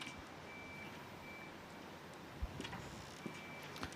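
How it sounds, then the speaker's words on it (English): A truck's reversing beeper sounds outside a snooker arena, a steady repeating tone heard faintly from a distance under a quiet background with a few soft knocks. "I don't know whether that truck was reversing into the arena or out of the arena, but it's quite noisy"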